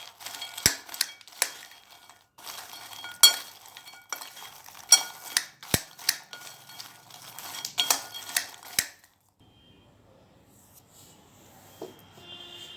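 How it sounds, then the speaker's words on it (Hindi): Foxnuts being stirred with spices in a bowl give off a run of close, dry clinks and scrapes in uneven bursts, then fall nearly silent toward the end. "अब हम इसमें मखाने ऐड करेंगे। और इनको अच्छे से मिक्स कर लेंगे।"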